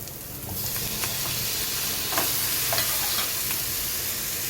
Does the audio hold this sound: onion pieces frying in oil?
yes